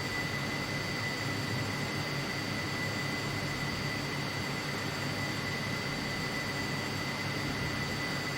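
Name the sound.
Gloster Meteor F Mk 8 jet engine in Flight Simulator 2020 video game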